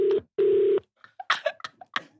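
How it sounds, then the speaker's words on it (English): A telephone call rings out unanswered: two long, loud ringback tones with a pause between them, followed by a series of short, indistinct clattering or voice-like sounds. "He won't pick up the phone."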